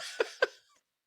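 A person imitates a cough with two short, sharp bursts, close and fairly soft, fading quickly into silence.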